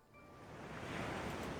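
Surf washes ashore in the game Goddess of Victory: Nikke. A soft, steady hiss of water swells slightly louder and holds, sounding distant and quiet, with no voices.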